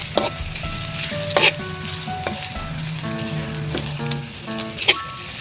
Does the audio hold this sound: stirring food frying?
yes